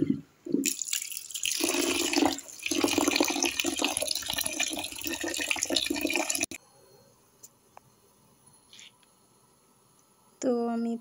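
Rice being rinsed by hand, with running tap water splashing and rushing loudly for several seconds, then a quieter stretch of faint drips and handling before water pours again near the end.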